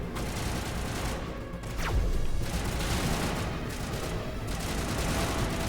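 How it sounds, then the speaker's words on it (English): Gunfire in the video game Mass Effect 1 Legendary Edition, a dense, continuous rattle of shots and bursts at steady loudness with no talking. "And she got in my way right as I'm shooting him."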